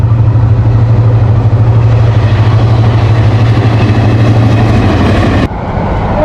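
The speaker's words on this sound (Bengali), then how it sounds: "আবার একটা ট্রেন আসতেছে মানে আমাদের তিন নাম্বার ট্রেন এটা আমাদেরকে যেটা ক্রস করতেছে" A train on a railway line near Feni Junction rumbles past at close range as a loud, steady low-pitched engine drone. The noise drops suddenly near the end, with no voices present.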